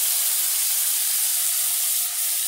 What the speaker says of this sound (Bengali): এখন এই যে মশলাটা দিয়ে দিচ্ছি